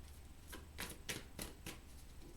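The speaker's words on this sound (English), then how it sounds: "One more shuffle." Tarot cards are shuffled during a three-card spread reading, with five quiet, crisp riffling bursts in quick succession close by.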